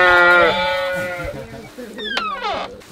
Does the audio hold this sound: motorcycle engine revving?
no